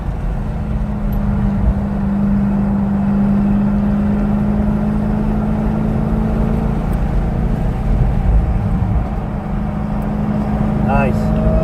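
A car races on a track past a Mazda Miata along the back straight, its engine a loud, steady drone throughout, with voices talking over it.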